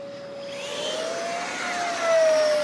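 A Freewing T-33/P-80 Shooting Star electric ducted fan RC jet in landing configuration flies past at an RC airfield with a steady, whining turbine-like whir whose pitch slides and swells slightly toward the end.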